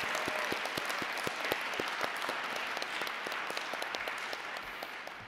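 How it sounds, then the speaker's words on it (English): An audience at a student election speech event applauds, a steady, moderately loud patter of many hands clapping that carries on throughout and fades slightly at the end. "Let's give one more round of applause for all the candidates who has given a speech today."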